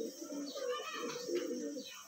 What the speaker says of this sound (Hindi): देखें आप कबूतर जो है वो ये अभी खा रहे हैं